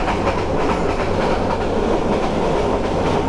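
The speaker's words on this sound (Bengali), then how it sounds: "আমাদের মহানগর এক্সপ্রেস কিন্তু টান শুরু করছে" Mohanagar Express, a 3000-series train, picking up speed: a loud, steady rumble of wheels on track with continuous rhythmic clatter, heard up close from inside the carriage with no voices.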